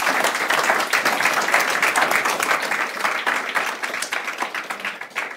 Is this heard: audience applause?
yes